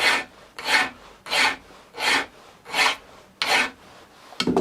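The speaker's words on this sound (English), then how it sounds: "I'm going to file off the sharp edge." A hand file rasps across the sharp edge of a metal piece in six even back-and-forth strokes, each a loud scraping burst separated by short pauses.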